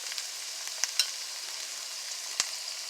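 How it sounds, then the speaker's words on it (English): Corned beef dish caramelizing in a pan, giving a steady soft sizzle with a few sharper pops and spatters, close but fairly quiet, with no talking. "I'm going to just caramelize this for like 2 minutes"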